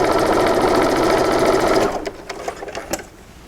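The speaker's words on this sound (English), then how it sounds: "So let's go to the sewing machine and sew these." A sewing machine runs fast and loud stitching quarter-inch seams on quilt pieces, a steady close mechanical whir that stops partway, followed by a few faint clicks and taps.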